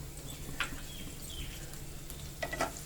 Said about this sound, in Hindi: और इनको अच्छे से हमें भूनना है और तब तक भूनना है जब तक कड़ी पत्ते क्रिस्पी हो जाएं।